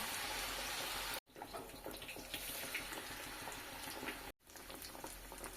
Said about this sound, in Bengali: সেম প্রসেসে বাকি নাস্তাগুলো ভেজে তুলে নেব।